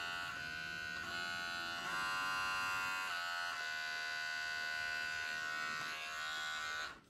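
A Hunk Up Bush Master Pro body hair trimmer runs with a steady, close electric buzz that shifts pitch slightly at a few moments, then cuts off abruptly near the end.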